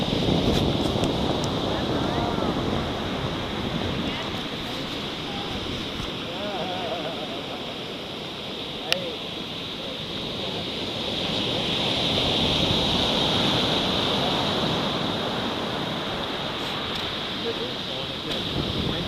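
Ocean surf rolls in steadily on Wrightsville Beach, North Carolina, a continuous wash of breaking waves mixed with wind buffeting the microphone, swelling slightly louder toward the end.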